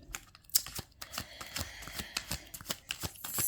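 Deck of cards being shuffled by hand: a quick series of crisp riffling clicks and soft slaps, close and fairly quiet, in irregular bursts with no talk.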